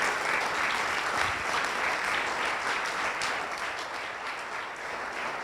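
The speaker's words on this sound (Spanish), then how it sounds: "Le das aplausos a todas las bodas con el Señor." Congregation applause during a church service, a thick continuous wash of many people clapping that stays steady and gradually softens a little toward the end.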